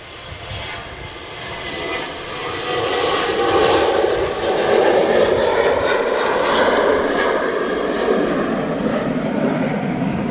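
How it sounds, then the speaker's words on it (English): A KLM Boeing 737 rolling down the runway for take-off at Manchester Airport, its engine roar building over the first few seconds and then holding loud and steady, with a rising whine running through it. "Nice early intersection on the KLM 737."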